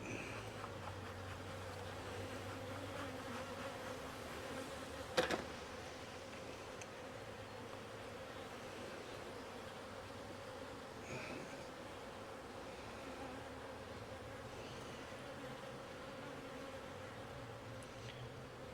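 Steady, dense buzzing of many honey bees close by at a hive during queen cell grafting and smoking, continuous throughout, with one brief knock partway through and no voices.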